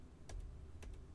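Two short bursts of typing on a computer keyboard, quick clusters of key clicks close to the mic against a low background hum, with no one speaking.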